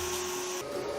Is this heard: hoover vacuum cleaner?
yes